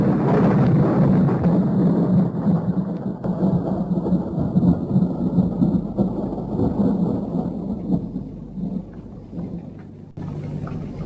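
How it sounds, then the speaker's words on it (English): Rolling thunder from an approaching storm in a radio drama, a long loud rumble that swells and slowly fades over several seconds, with a softer crack near the end and a hint of rain beneath, no voices. "There's going to be a storm."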